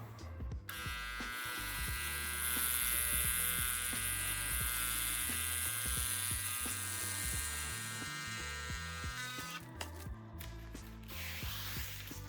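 A JCONLY ARTFLY thermal printer runs on a high darkness setting, giving a steady close-up whir with a high buzzing tone that holds for about nine seconds, then stops amid a few faint clicks.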